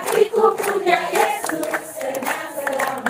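Church congregation clapping along to a sung hymn, rhythmic hand claps blended with group singing voices, fairly close and steady throughout.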